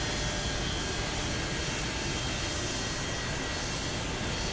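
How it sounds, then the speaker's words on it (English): A Pan Am 727-200 in Microsoft Flight Simulator 2020 runs its jet engines with a steady, loud broadband roar and a thin high whine, unbroken and with no talking. "We have a good engine start."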